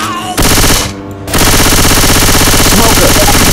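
Rapid automatic gunfire from a Left 4 Dead mod game rattles loudly and continuously, briefly dipping before resuming at full intensity, with faint speech buried beneath.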